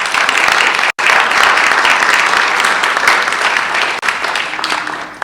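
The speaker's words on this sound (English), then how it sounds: "So why don't we give them a round of applause real quick." A school board meeting audience breaks into loud, sustained applause for student chamber performers, dense clapping filling the room with one brief dip near the start.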